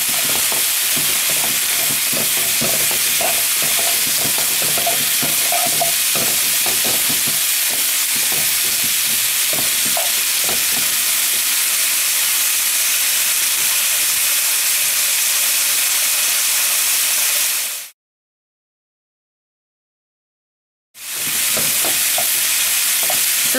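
Sesame beef with green onions and broccoli stir-fries at high heat in a wide frying pan, a steady loud sizzle and hiss with scraping tosses, cut off by a few seconds of silence before the frying resumes.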